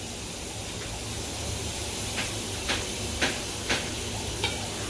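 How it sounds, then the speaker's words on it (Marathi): A paneer marinade with a little oil added is stirred together in a bowl, producing a soft, wet mixing texture with a few light spoon clicks spaced a second or so apart over a steady background hiss. "ह्याच्यामध्ये थोडंसं फक्त तेल घालायचं आहे आणि परत असं एकजीव थोडंसं करून घ्यायचं आहे"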